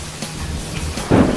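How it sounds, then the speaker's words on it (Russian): Thunder rumbling outdoors during light rain, a low rolling boom that swells near the end and is heard alone over a soft wash of pattering drops. "И правда дождь накрапывает."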